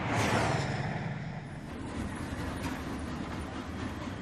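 A train rolls along the rails with a steady, loud rumbling roar and faint rhythmic clatter, heard close and continuous throughout.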